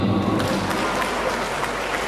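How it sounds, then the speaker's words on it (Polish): Audience applause greets a contestant being introduced, a loud dense wash of clapping filling the space throughout. "Brawa dla niej."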